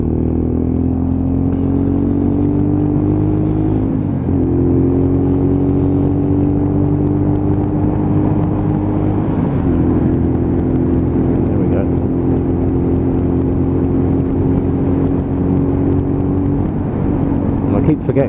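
A Lexmoto ZSX-F 125cc motorcycle with a five-speed gearbox drones loudly and steadily while riding on a dual carriageway in Milton Keynes. The engine note rises and then drops at each gear change, with wind rush underneath.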